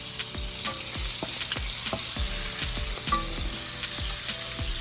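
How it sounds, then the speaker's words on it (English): Hot peppers frying in a pan for spicy garlic shrimp, a steady bright sizzle with a spoon or spatula repeatedly knocking and scraping the pan in a quick, regular stirring rhythm, close up, no talk. "Some hot peppers. Give it a nice little stir."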